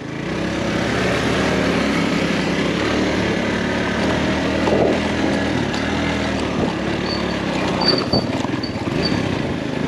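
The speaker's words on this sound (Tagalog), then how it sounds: "Kunin natin yung motor at susunduin natin sila." A motorcycle engine runs nearby with a loud, continuous buzzing drone and small fluctuations in pitch and level throughout.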